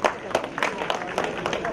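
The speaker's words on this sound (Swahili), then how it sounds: "Naomba tuwapigie makofi mengi sana." An audience applauds at an official gathering for a project inspection tour, the claps coming as scattered sharp bursts rather than a dense roar, with voices mixed in.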